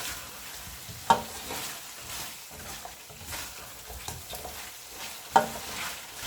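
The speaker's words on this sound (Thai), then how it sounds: "นี่ก็คลุกเคล้าให้เข้ากันเลยค่ะ" Spicy stir-fried village chicken with fish sauce and sugar is tossed in a pan, giving soft, quiet stirring and faint sizzling broken by two sharp clinks of a utensil on the pan.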